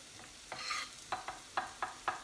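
Sliced mushrooms dropped into a pan of butter and onions: a soft, steady sizzle under a few short, sharp stirring clicks at a regular pace.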